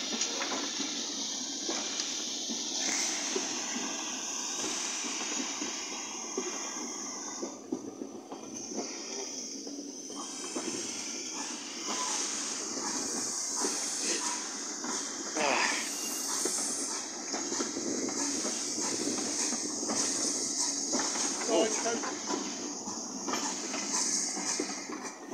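A passing train on a rail line, a steady broad rumble with hissing and faint rail clatter that holds fairly loud and even throughout, with a voice briefly audible over it.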